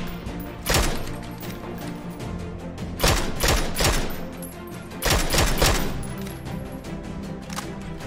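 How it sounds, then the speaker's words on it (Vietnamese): Gunfire in the video game PUBG, loud bursts of rapid automatic shots repeating in three clusters over a steady background of game noise, with no talk. "tập trung bắn nhà nè, Mino."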